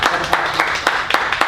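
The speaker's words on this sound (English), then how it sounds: "We can clap for her." Brief audience clapping for an actress being introduced at a feature film interview event: a steady patter of hand claps, moderately loud, with no voices.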